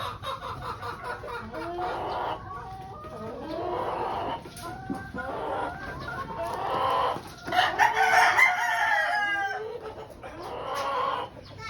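Gamefowl bullhens and roosters in a breeding pen, several crows rising over steady clucking and cackling, close and fairly loud, with no talk over them.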